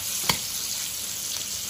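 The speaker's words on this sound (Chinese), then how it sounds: "把这辣椒一起下锅啊，把辣椒呢也煎酥啊" Chili peppers frying with cooked cured pork in a hot wok give a steady, close sizzle and crackle throughout, with one brief clink of a utensil near the start.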